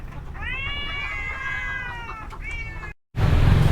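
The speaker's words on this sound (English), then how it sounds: "Just cats everywhere." Caged cats at the Hat Yai Vegetarian Festival in Thailand meow in a long, drawn-out cry followed by a shorter one, close and clear over outdoor crowd noise, before a brief cut to louder background din.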